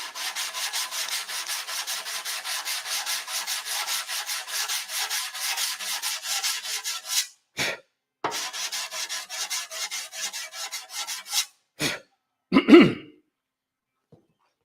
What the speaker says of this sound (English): I'm going to lay this 320 across my ancient sanding block.